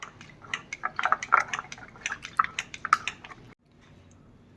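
Curd and cold water are stirred together into buttermilk, with irregular wet sloshing and squishing pulses up close, then a brief pause.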